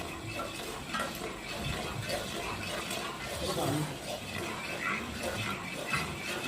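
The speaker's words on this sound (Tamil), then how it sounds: "கட்டியாக விடாமல் கிண்டிக்கிட்டே இருக்கணும்" A thick herbal Dhatu Lasta lehyam paste is stirred nonstop in a pot to keep lumps from forming, producing close, busy scraping and soft clinks of the spoon against the metal.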